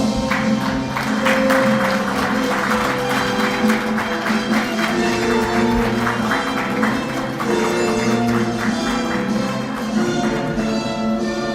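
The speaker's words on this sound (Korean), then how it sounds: "큰 박수로 맞이해주시기 바랍니다" Audience applause at a Korean business hall-of-fame induction ceremony, a steady, dense wash of clapping with a sustained musical tone underneath, lasting the whole stretch without speech.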